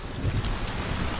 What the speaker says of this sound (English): Ooh, you can hear the thunder too. Ah, that's a rainstorm.